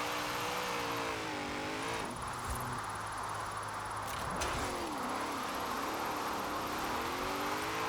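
Game engine and tire noise from a family SUV built as a drift car in Forza Horizon 4, a steady loud drone with rising and falling revs as it slides sideways, with no talking.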